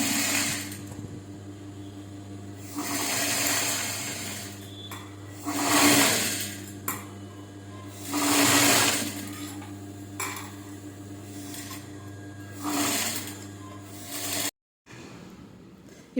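A sewing machine stitching a baby frock runs in several short whirring bursts separated by pauses, close and fairly loud over a steady low room hum.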